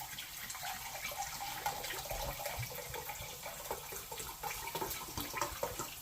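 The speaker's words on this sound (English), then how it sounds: "Now to this I'm going to add my cider." Homemade apple cider, about 300 ml, poured into a pork casserole, a steady faint liquid gush and splash lasting several seconds with no voices.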